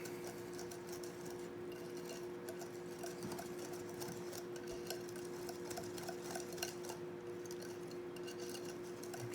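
Pancake batter with milk is stirred in a bowl, making soft, continuous swishing and occasional light clinks of the utensil against the bowl, close and quiet over a steady hum.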